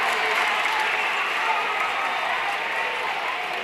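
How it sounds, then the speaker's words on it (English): A high school basketball crowd in a gym, CHS Spartans against the Union County Patriots, keeps up a dense, steady roar of cheering and clapping late in the game, with voices mixed into the constant wash of noise. "Crowd's definitely starting to get into it a lot more as the time is winding down"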